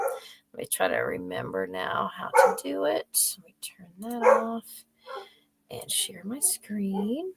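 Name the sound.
dogs barking in the background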